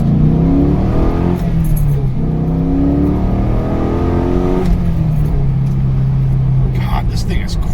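LS1 V8 in an F-Body car with a T56 manual gearbox accelerating hard on a country lane, the engine note climbing through the gears with rising harmonics, a brief dip at the shift, then climbing again, loud and close.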